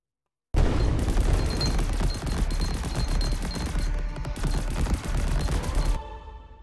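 Grenade explosions in the video game Greedland burst in abruptly, followed by several seconds of dense, loud booming and crackling blasts that then cut out.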